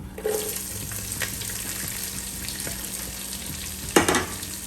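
Sliced onion and green chillies sauté in hot ghee in a pan for ghee rice, giving a steady close sizzle with a few sharp stirring scrapes and no talking.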